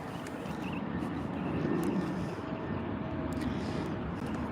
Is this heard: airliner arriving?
yes